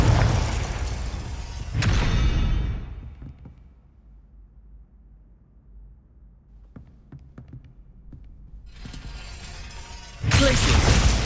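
Confringo spell blast in Hogwarts Legacy: a loud burst opens, with a second boom near two seconds that trails off into quiet, small clicks in the lull, then another heavy blast at the end.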